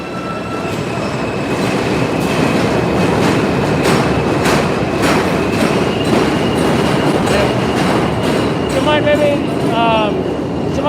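A train rolls past on rails, a loud, continuous rumble with rhythmic wheel clatter throughout and high squealing tones near the end.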